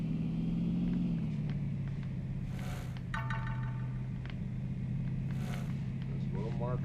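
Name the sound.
race car engine in the video game Car Dealer Simulator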